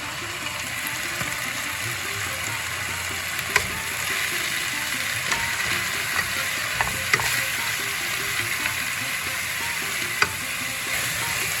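Spices and grated coconut fry in a pan with a steady, continuous sizzle, punctuated by occasional scraping clicks of stirring, close and even throughout, with no talking.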